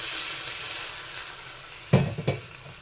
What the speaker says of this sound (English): we just continuously stir it